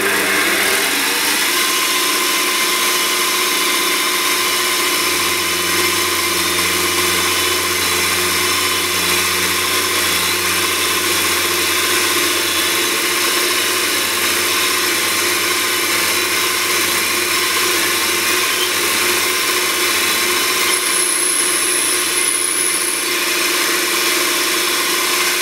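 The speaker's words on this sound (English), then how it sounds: "and now I'm going to drill a bit." A drill bit bores into a workpiece on a micro lathe, a steady motor hum with a constant mid tone that runs unbroken and loud, with a short high whine late on.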